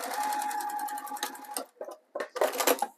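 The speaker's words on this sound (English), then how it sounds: "I'm going to stitch a few more stitches" A sewing machine stitches piping onto fabric for a Christmas stocking with a steady, close whir for about a second and a half, then stops and restarts in short bursts after a pause.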